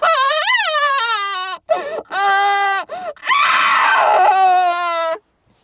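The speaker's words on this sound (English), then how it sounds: "As she listened to the sobbing screams," A child shrieking and sobbing in a hysterical tantrum, with long, loud, wavering screams broken by short gasping pauses, close and dominant.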